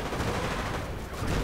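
Dense, continuous gunfire in a World War II strategy video game as a Hotchkiss fires on infantry, a loud, unbroken wash of rapid shots and crackle with no pauses.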